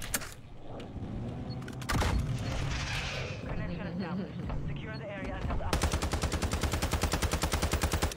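Rapid automatic gunfire in a multiplayer shooter match with nuke killstreaks, steady bursts building into a dense, loud rattle near the end, with players talking over it.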